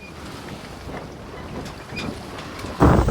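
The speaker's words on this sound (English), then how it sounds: "It is so windy today" Wind buffets the microphone in a continuous rumbling roar, with a louder gust near the end.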